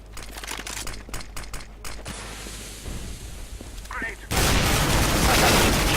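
Gunshots in CS:GO, with a rapid series of close single shots early on, then a quieter stretch and a loud, sustained burst of fire at the end.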